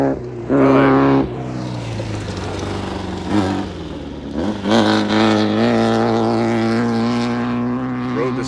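A side-by-side off-road vehicle running in the desert, its engine a loud, steady droning hum with a rough low rumble, rising briefly and then holding even for several seconds, close by with no talking.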